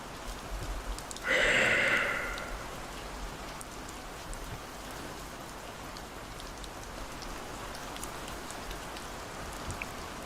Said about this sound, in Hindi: मुझे ऐसा लग रहा है कि शायद से ना बाहर बारिश होने लग गई है।